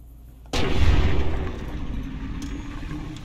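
A single loud gunshot in the video game Fallout New Vegas, an abrupt blast followed by a long rumbling decay, close with no talk.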